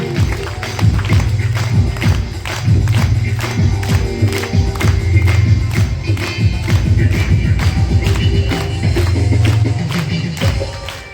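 A congregation at a church healing gathering claps loudly in a fast, steady rhythm alongside thumping drum beats, with crowd noise running underneath.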